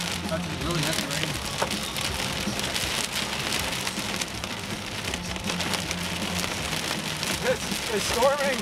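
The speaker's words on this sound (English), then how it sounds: "That's really heavy rain." Heavy rain pours steadily during a summer storm on the prairie in southwest Saskatchewan, a dense, loud hiss of drops hammering surfaces that continues without a break, with faint talk now and then beneath it.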